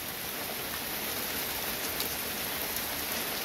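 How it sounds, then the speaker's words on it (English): Heavy downpour of rain before a storm, a dense, steady hiss of drops hitting surfaces that fills the whole stretch evenly and loudly, with no voices. "It just started a good downpour."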